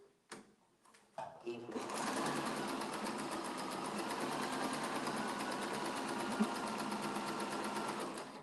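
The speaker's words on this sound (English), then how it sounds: "We're gonna sew on that other line." Sewing machine stitching a quilt block seam, a steady fast whirring clatter that runs continuously after a few short clicks and taps at the start, close and moderately loud.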